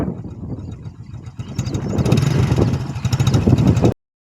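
Tractor engine running on a farm during sesame harvest work, a loud close diesel rumble that builds and stays steady before cutting off abruptly.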